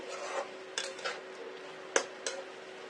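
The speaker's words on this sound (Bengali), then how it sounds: "এখন আমি মাংসের পাতিল নামিয়ে নেব" A cooking pot of meat being taken off the stove, a few faint, scattered metallic clinks and scrapes of the pot against the burner, fairly quiet.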